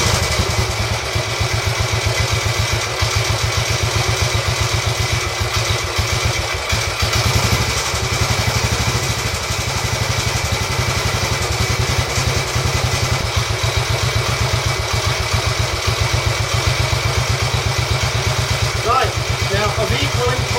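A Royal Enfield Bullet 350 Classic single-cylinder engine thumps at a steady, loud idle with a rapid even beat and mechanical clatter, and a voice talks over it throughout.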